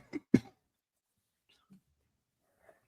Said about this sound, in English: I had a little cough there